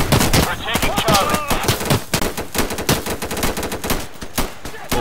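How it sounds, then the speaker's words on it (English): Rapid automatic gunfire from the video game Insurgency, dense bursts of shots crackling loudly and almost without pause for the whole stretch. "I wish I knew where you were getting shot from"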